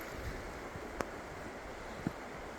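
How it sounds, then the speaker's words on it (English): Flowing water from the Natchaug River in a hemlock and pine forest gives a steady soft wash, with wind noise and a couple of faint knocks over the constant hiss. "I think this is the Natchuag River."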